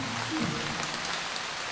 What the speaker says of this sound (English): Or, when it rains, our seeds get water.